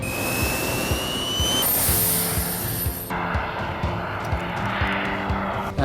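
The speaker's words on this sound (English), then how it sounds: "I've also been flying my wingsuit with jet engines for the first time" Jet engines on a wingsuit in flight make a loud, continuous roaring whine with a rising high-pitched tone, all mixed with rushing wind.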